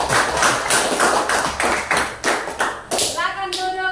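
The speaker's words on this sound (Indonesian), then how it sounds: "Tepuk." Children in a classroom clap together in a patterned group cheer, sharp rhythmic claps in bursts, ending with a trailing voice-like tone.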